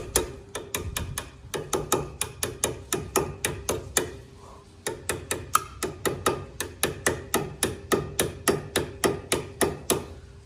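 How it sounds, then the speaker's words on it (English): Sharp metallic hammer taps ring out in a steady, rapid series while a Toyota Celica's suspension part is knocked into its seat during a 3SGE Beams engine swap, close and loud with one brief pause midway. "I just gave it a couple taps and kind of find its home"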